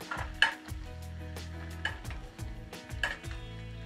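Steak frying in butter with rosemary on a hot pan, a continuous sizzle broken by repeated metallic scrapes and clinks of a utensil, close and fairly quiet, with no talking.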